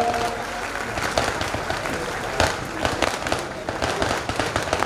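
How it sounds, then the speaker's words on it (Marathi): Loud, continuous applause from a large crowd at a community gathering in Chalisgaon, with dense clapping throughout and a few sharper bursts standing out. "एकदा जोरात आपण त्यांच्यासाठी सुद्धा जोरात टाळ्या वाजवूया"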